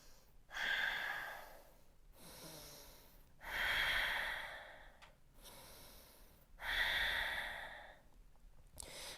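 Long, deep breaths during a yoga class, three slow, airy exhales through the nose and mouth spaced a few seconds apart, close and soft, with quieter inhales between them.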